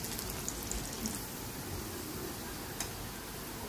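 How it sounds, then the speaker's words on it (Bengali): Onion fries in oil in a pan, a faint, even crackling sizzle with scattered tiny pops throughout. "তো ডিমের জন্য পেঁয়াজ আর তেল দিলাম। পেঁয়াজটা ভালো করে ভাজবো।"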